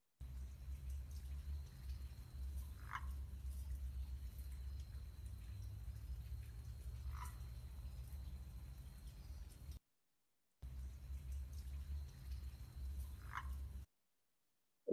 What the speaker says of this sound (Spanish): es un canto típico de una rana